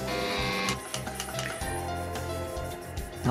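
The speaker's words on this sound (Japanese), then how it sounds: "なんかこれ CD が当たってる音がする。" Disc rubbing and scraping inside the drive of a very cheap budget stereo system, a steady near mechanical whirring with a faint rhythmic scuffing, no talking.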